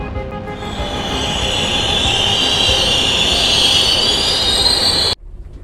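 A train rolls steadily along the tracks with a loud rumble and a high metallic wheel squeal, then cuts off abruptly near the end.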